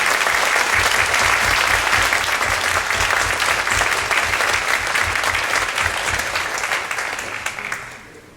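Sustained applause from an academic affairs audience congratulating award recipients, dense clapping filling the room steadily before tapering off toward the end.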